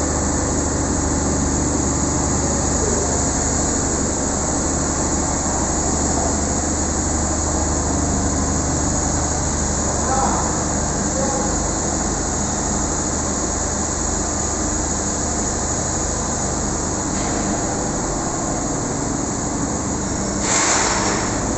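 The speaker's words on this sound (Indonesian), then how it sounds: "Ini kamar mesin" A steady, loud, dense mechanical drone fills the engine room of the ferry KMP Aceh Hebat at Ulee Lheue port. The running engine holds an unbroken tone throughout with no talk.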